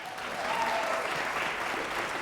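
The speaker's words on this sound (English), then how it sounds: "Do the little clap sound effect." Recorded applause sound effect from a crowd, steady dense clapping with light cheering held at an even, fairly loud level for a couple of seconds, without talk over it.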